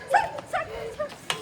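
A dog during a ball game, giving a few short close barks and yips in quick succession.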